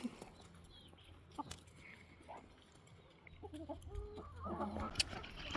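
Chickens cluck softly while pecking at black soldier fly larvae treats, with scattered short clucks and calls that grow busier toward the end over a low background hum.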